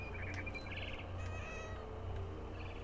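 A cat meows in the video game What Remains of Edith Finch, a few drawn-out, tonal meows over a low ambient background, mixed with faint bird chirps.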